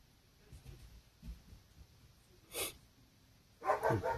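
A dog barks outdoors, faint and at a distance: a soft single woof, then a short pair of barks after a pause, over a quiet background.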